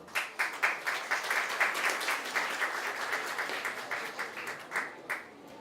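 An audience at an opening event applauds as guests are welcomed onto the stage, a steady wash of clapping with rhythmic surges lasting several seconds, moderately distant.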